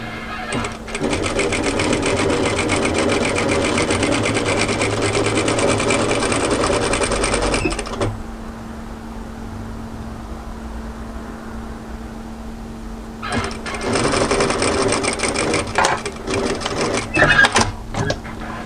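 A sewing machine runs steadily as it sews a one-centimeter seam on a peplum camisole top, stopping for a few seconds of near quiet before whirring again, close and continuous.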